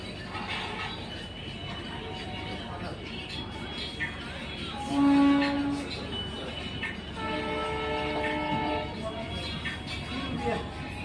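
A passenger train pulls away with a loud horn blast midway, rumbling wheels and carriage noise beneath people talking nearby.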